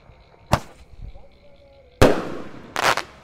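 A 10-shot firework cake fires at night during Ramadan, with sharp close bangs and crackling bursts in irregular succession, the loudest blasts near the end.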